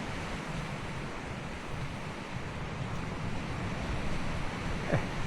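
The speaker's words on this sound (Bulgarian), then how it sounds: "Морето е бурничко" Waves on a slightly stormy sea wash in steadily, a dense continuous roar of surf mixed with wind buffeting the microphone, unbroken throughout.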